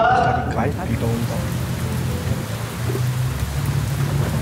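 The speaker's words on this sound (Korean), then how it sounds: "갑자기 비가 오기 시작한다." Rain begins falling during a trip to a coffee farm in Costa Rica, a steady broadband hiss with low rumbling thunder underneath, loud and close, after a brief voice at the very start.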